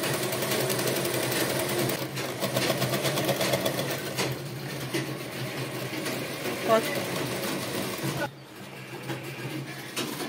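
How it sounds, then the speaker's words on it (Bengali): A sewing machine stitches churidar neckline fabric with a fast, rhythmic mechanical whir that runs in bursts with brief pauses. Quiet voices can be heard in the room beneath the machine noise. "তো এরপরে দেখো এটা আমি সেলাই করে নিচ্ছি"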